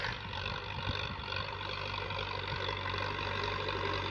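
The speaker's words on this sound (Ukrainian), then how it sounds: "Отак працює тракторець і так працює дискова" A FORTE RD 404 tractor runs with a disc harrow attached, giving a steady, continuous low engine drone at moderate distance with no speech over it.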